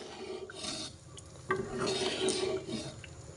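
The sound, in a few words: stirring halim rice and lentil mixture in a pot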